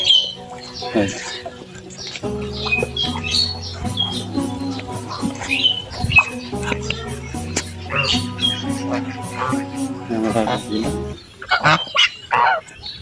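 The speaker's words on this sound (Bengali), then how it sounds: "চীনা হাঁস এখানে আসে কিছু পুকুরের মধ্যে" Loud honking and squawking from several Chinese ducks on a pond, overlapping calls in irregular bursts close by, with a harsh chorus throughout.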